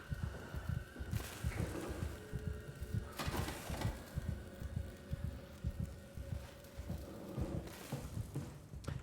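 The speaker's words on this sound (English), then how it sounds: "I kind of hate the heartbeat sound effect in games like these." Heartbeat sound effect in the horror video game SOMA: a steady, low double-thump pulse repeating throughout under a dark, rumbling ambient backdrop with occasional swells of noise.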